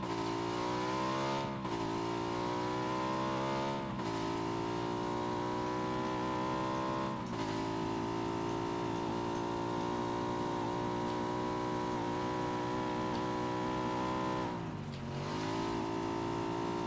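A motorcycle engine in the video game PUBG drones loudly and steadily throughout, its pitch dipping and climbing again at a few points as the throttle changes, with no talking.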